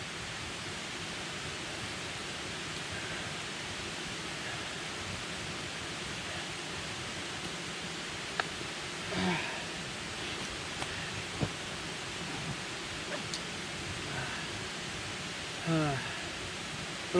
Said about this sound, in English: it is more of a river, not a waterfall.